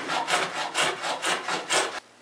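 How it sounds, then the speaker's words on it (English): Steady back-and-forth hand plane strokes shaving birdhouse wood down to a line, about eight rhythmic rasping passes close up, then the stroking stops abruptly. "I can go ahead and plane these things down to the line and smooth them up"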